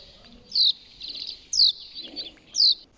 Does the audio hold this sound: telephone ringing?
no